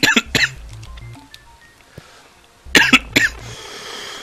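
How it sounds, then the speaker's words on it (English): Loud, close coughing in two clusters of sharp bursts, with a pause between them. A faint game music tune from the Mario platformer fan game SMBX plays in the background. "no clue where those coughs came from"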